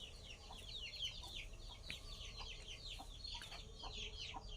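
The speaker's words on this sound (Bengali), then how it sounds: "কিছু আওয়াজ পাচ্ছ? ছোট মুরগির বাচ্চা।" Many small chicks cheep continuously, high thin peeps overlapping in a busy chorus over a low steady background hum.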